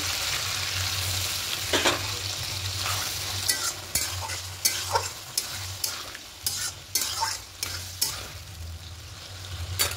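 Potato and pointed gourd fry with poppy seed rinse water added to the pan, a continuous close sizzle with a low hum beneath and repeated metallic scrapes and taps as a spoon stirs, no voices.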